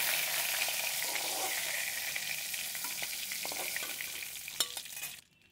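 Lentil fritters (bora) frying lightly in hot oil give a steady, dense sizzle that holds evenly, with a couple of faint utensil taps near the end before the sound cuts off abruptly.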